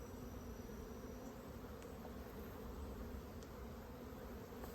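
A steady, dense drone of many honey bees flying around mini mating nucs, close and unbroken, with no voices over the constant buzz.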